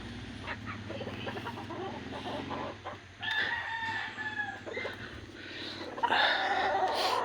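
A young rooster in a backyard square pen crows several times, its strained calls rising clearly above soft clucking and other farmyard fowl sounds nearby.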